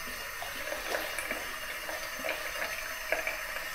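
Cold water runs steadily from a tap in a continuous broadband splash with small fluctuations, close and alone with no voices.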